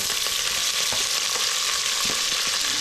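Onions and fresh curry leaves sizzle steadily in hot oil for bisi bele bath, a dense continuous frying hiss close up with a few soft clicks of stirring scattered through and no voices.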